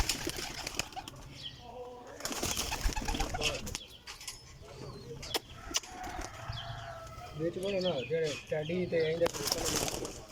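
Fancy flying pigeons of the Commander line burst free, their wings clattering in loud flurries while a rooster crows nearby and people talk in the background.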